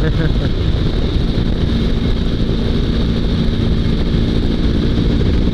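A sidecar motorcycle's engine runs under applied throttle, giving a loud, continuous, low rumbling drone that holds steady throughout and is heavily buffeted by wind noise against the microphone.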